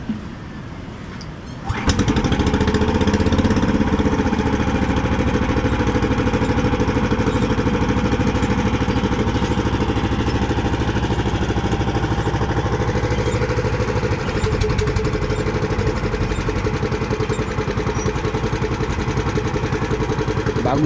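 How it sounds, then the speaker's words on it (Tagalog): A new engine on a fishing boat starts after a short quiet moment, then idles loud and steady at close range with no talking over it. "Bagong makina niyan."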